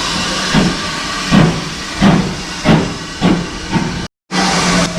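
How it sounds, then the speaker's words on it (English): A local steam train arriving at Aviemore station in Scotland: rhythmic chuffs pulse over a constant loud hiss, slowing as the train draws in, then a brief silence before the hiss resumes. "The local train's into Aviemore for the journey back to Brimhill"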